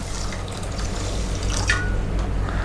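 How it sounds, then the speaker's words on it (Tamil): Water poured into a bowl of washed foxtail millet set to soak for dosa batter gives a close, steady splashing pour that continues throughout, with small gurgles. "இப்போ வந்து திணைக்கும் நம்ம வந்து தண்ணி ஊற்றிக்கலாம்"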